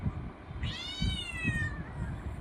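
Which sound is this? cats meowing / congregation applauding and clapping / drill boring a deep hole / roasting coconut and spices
cats meowing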